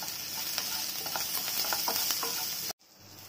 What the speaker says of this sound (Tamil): வெங்காயமும் நல்லா கேப்சிகம் நல்லா வதங்கிடுச்சு